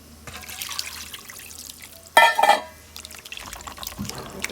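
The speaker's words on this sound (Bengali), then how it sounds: "মাখানো হয়ে গেছে, এখন পানি দিয়ে দিব।" Water poured into a cooking pot of hand-mixed curry, a brief loud splashing gush in the middle, surrounded by quieter kitchen clinks and handling noise.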